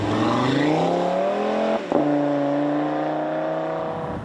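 A 2019 Audi RS 3 engine revs with a rich, rising growl, dips briefly around a gear change, then settles into a steady, throaty drone.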